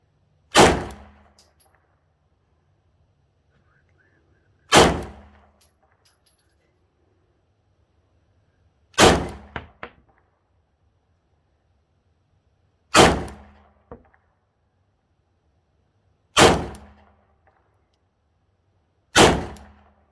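Six single Beretta M9 pistol shots ring off steel targets, each a sharp bang with a metallic clang decaying over about a second, spaced roughly every three to four seconds with quiet between.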